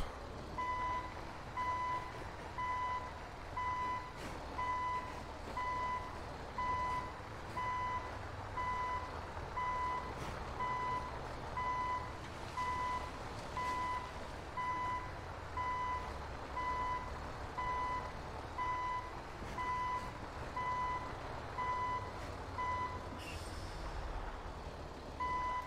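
A Peterbilt tow truck backing up in GTA 5 with a real-life mod sounds a steady series of evenly spaced reversing beeps over a low diesel engine rumble. The beeps run continuously for the whole stretch, loud and close, with no talk.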